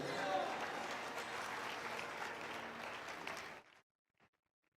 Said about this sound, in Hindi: ताली बजाओ परमेश्वर के लिए।